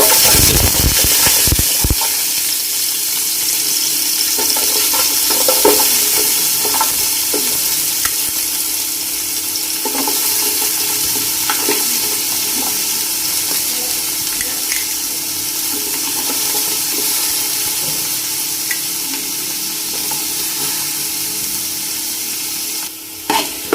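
Loud, steady hiss and sizzle of long-sliced onions frying in a pan with cloves and star anise for vegetable biryani, with occasional stirring clatter at the start and end.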